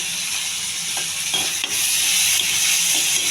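Onion, cumin and curry leaves sizzle loudly and continuously in a pan, close up, with a few light stirring scrapes and no voices.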